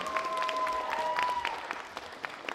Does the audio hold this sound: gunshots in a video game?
no